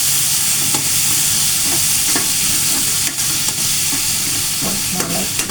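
Onions and tomatoes sauté in a pan, making a steady, loud sizzle and hiss throughout with occasional stirring clicks and scrapes.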